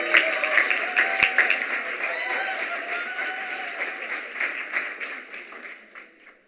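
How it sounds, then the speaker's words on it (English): Sustained applause from an audience at a mayor's service awards ceremony, steady clapping throughout that gradually thins and fades toward the end. "if everyone would join me in another really large round of applause"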